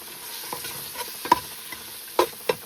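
Masala being added to chicken frying in a pan: a soft background sizzle with scattered clicks and scrapes of a spoon stirring against the pan.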